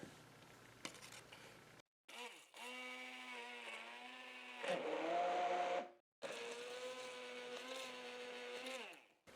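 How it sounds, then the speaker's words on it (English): A handheld immersion blender whirs in two long bursts with a brief stop between them, its motor pitch wavering as it churns thick milk paint up close. "so we're going to take our immersion blender"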